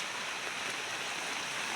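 Utavali river in Gir swollen after rain, a faint steady broadband rush of flowing water with no break across the short stretch.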